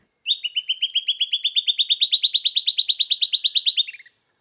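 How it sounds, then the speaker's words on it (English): A silvered antbird of the Amazon rainforest calls with a rapid, accelerating trill of about thirty clear, high, whistled notes lasting several seconds. The notes are loud and close and rise slightly before ending abruptly against silence. "Or the silvered antbird of the Amazon rainforest."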